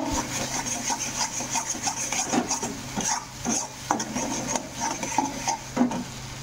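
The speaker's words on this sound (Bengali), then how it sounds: "ভালো করে কষাইলামও, কষাইয়া রান্নাটা করবো" A spatula scrapes and stirs duck curry frying in a pan with cumin, ginger-chili paste, turmeric and salt, a steady rhythm of close, rough scraping strokes with no talking.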